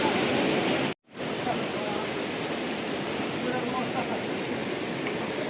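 Floodwater from an opened dam in Bhutan rushes and churns in a loud, steady roar, with a brief dropout near the start and a voice talking over it.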